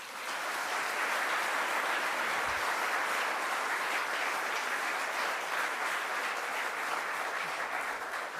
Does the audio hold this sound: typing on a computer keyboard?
no